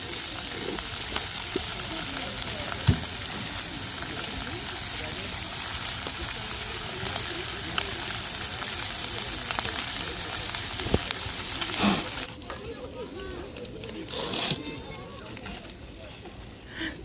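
Pork belly and garlic sizzle loudly and continuously in a pan at an Anseong auto-campsite, with stirring as people chat nearby; the frying drops sharply in volume toward the end.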